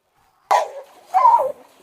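A dog in a garden gives two barks close by, a sharp one followed by a longer, lower bark after a short pause.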